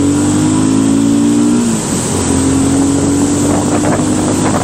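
BSA Gold Star motorcycle accelerating hard in second gear on a road, a loud steady engine drone rising in pitch, then a brief dip at a gear shift before climbing again, with heavy wind rush.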